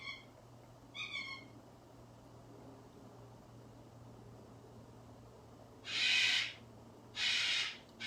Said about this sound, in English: And the bird is back.